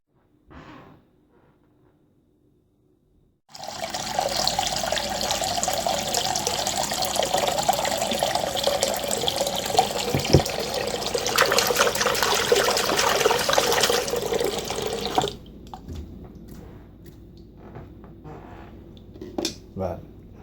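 Medium-hot water gushes from a tap into a sink in a continuous, fairly loud stream for about twelve seconds before cutting off, followed by quiet handling sounds.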